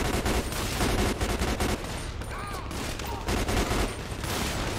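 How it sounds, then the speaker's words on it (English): Rapid bursts of gunfire from a shootout in GTA 5, dense repeated shots and automatic volleys, loud and close with brief gaps. "Somebody's shooting me."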